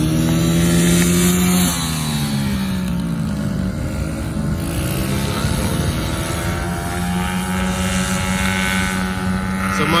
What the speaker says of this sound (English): we also brought these guys little dirt bikes so they can ride around, get more comfortable